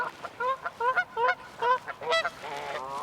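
Ducks nearby give a rapid run of honking calls in short bursts, fairly loud and close, with one longer, lower call near the end.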